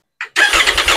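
Triumph Tiger 900 motorcycle engine starting up close: a brief starter whir, a short pause, then the engine catches and settles into a steady, fairly quiet rumble.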